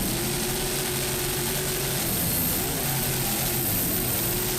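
A 40-foot offshore racing catamaran with twin Mercury Super Cat engines and Mercury No. 6 drives roars at a 2005 offshore powerboat world championship race, a loud, steady, continuous engine drone throughout.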